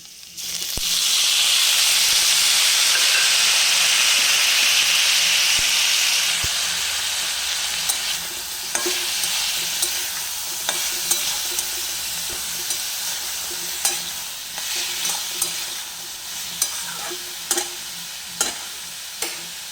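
Broccoli hits a hot pan for veg chowmein with a loud rushing sizzle that gradually settles into softer frying, then regular clacks of a spatula stirring through the later half, no voices.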